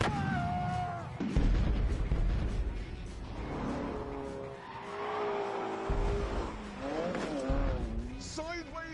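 Car in The Grand Tour Game sliding sideways, tyres squealing in long wavering whines over a steady engine drone, with people talking over it throughout.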